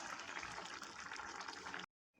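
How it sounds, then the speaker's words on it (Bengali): Pea ghugni with mutton fat boiling in a pot, a quiet, steady bubbling hiss that cuts off abruptly near the end. "ঘুগনিতে আমি জল দিয়ে দিয়েছি আর ঘুগনি আমার ফুটো শুরু করেছে"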